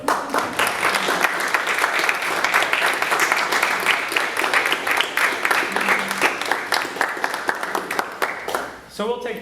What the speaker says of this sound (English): How about a round of applause for Kayla?